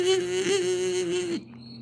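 A person imitates a mosquito with a thin, steady nasal whine held for over a second with slight wavers, then stops abruptly.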